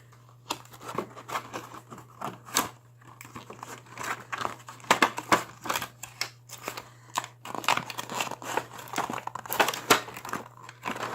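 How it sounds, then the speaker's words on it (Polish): Thin plastic foil is peeled and crinkled off a blister pack holding a LEGO Ninjago Garmadon minifigure: close, quiet, irregular crackles and snips with brief rustling bursts over a steady low hum. "Wystarczy zdjąć folię."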